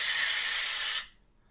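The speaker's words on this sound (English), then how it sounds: "I was spraying some Febreze around, kind of trying to get rid of the pet smell" A single sustained hissing burst of Febreze air freshener spray, sprayed around a room to cover pet smell, steady and close for about a second before stopping abruptly into near silence.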